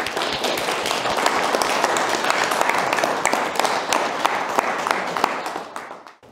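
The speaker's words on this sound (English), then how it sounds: "ask you to put your hands together and a round of applause for our instructors" An audience applauds its instructors at a STEAM education graduation event. The clapping is loud, dense and steady for about six seconds, then tapers off at the end.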